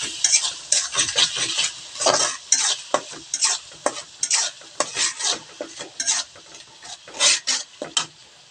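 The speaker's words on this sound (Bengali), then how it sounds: "মশলা দিয়ে ভালো করে কষাবো।" Spices for a pangas fish curry stirred and fried in a pan: loud, rhythmic scraping strokes of a utensil against the pan over a continuous sizzle, with no talking.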